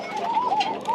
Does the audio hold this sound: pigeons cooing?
yes